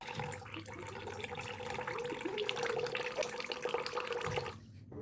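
Beaten rice (aval) is washed in water, a continuous close splashing and trickling with small drips that stops abruptly at the end, with no voices.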